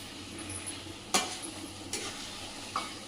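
Sugar being stirred into cooked pumpkin payasam in a pot, with a faint steady simmer, three sharp spoon scrapes against the pot and a soft clink near the end, no talking.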